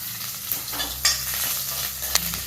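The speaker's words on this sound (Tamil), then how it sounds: "சோம்பு பச்சை மிளகாவும் நல்லா வதங்கிடணும்" Green chilies, fennel seeds and garlic sautéing in a pan, a constant close sizzle broken by a few sharp spatula clinks and stirring scrapes, no talking.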